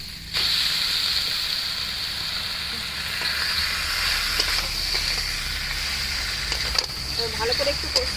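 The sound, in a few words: sautéing taro greens with hilsa fish head in a pan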